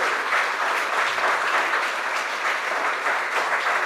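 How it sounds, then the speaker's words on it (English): A church congregation claps for newly welcomed members at a Sunday service, dense steady applause filling the room throughout, moderately loud and with no talk over it. "How about a big round of applause for our new members?"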